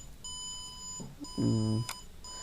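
An Arduino-driven speaker buzzer emits a thin, steady electronic tone, quiet and continuous, with a brief louder buzzy burst partway through.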